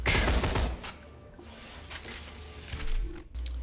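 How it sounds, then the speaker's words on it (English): The Varrock gun in Borderlands 2 fires a loud opening burst, followed by quieter scattered shots and mechanical clatter, then another sharp burst near the end. "The Varrock special is that it fires 3 bullets for the cost of 2, and that when bursting, the bullets slowly converge."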